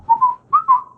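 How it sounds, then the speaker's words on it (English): Four short whistled notes, two pairs with a brief gap between, clear and close with nothing else around. "There's somebody else whistling."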